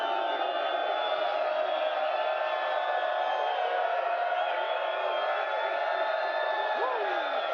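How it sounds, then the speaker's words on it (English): A large crowd at an air reserve base roars and cheers continuously at steady, loud volume, a dense wash of voices with occasional whoops rising above it. "What an amazing crowd"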